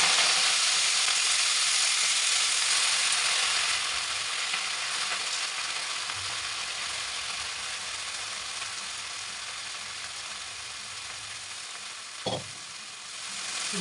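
Ingredients hit hot oil in a wok (kadai), raising a loud, steady broadband sizzle that fades slightly over time, with a brief sharp knock near the end.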